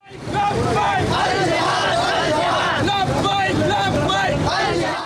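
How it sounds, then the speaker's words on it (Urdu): Protesters, including men, women and children, chant slogans in unison against America and Israel, a loud crowd of rhythmic shouted voices filling the whole stretch up close. "مظاہرین نے امریکہ اور اسرائیل جارحیت کے خلاف نعرے بازی کی۔"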